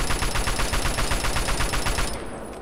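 Rapid automatic gunfire in Fallout 3 rattles out in a dense, continuous burst of loud, close shots for about two seconds, then cuts off abruptly, leaving a softer tail.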